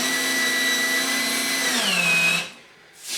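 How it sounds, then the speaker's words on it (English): A power drill whines loudly and steadily, dropping in pitch as the screw bites into plywood flooring, then stops briefly before starting again. "it's essential that you drill them below the surface of the wood"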